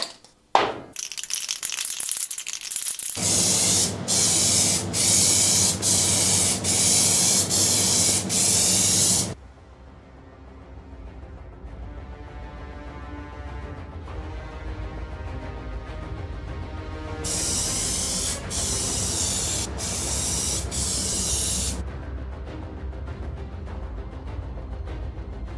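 Airbrush spraying DNA Silver Metal Flake paint onto an aluminium composite panel previously coated black: a steady close hiss with brief rhythmic pulses, then a quieter stretch of compressor hum before the spraying hiss returns.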